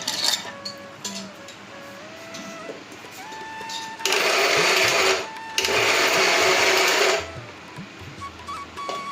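A mixer grinder blending brinjal and cucumber vegetables for chutney, two loud bursts of whirring grinding close by with a short pause between, after quieter clinks and faint background voices.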